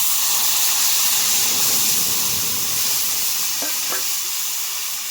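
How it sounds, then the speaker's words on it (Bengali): Mashed potato goes into leftover fish-frying oil with whole cumin seeds and chopped green chili, giving a loud, steady hiss and crackle with a couple of faint utensil clinks. "মাছ ভেজে যে তেলটা ছিল তেলের মধ্যে গোটা জিরে দিয়ে দিলাম।"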